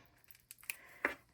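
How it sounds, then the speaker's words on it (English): Scissors snip into the plastic wrapping on an A5 notebook, a few short, quiet crisp cuts and crinkles in a hushed room with no talking. "Need a little bit of scissors to just get the edge of this started."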